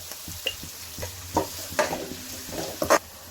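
Onions with a little salt frying in a pan for a chicken gravy, a soft sizzle under intermittent stirring scrapes and spoon taps, close and fairly quiet.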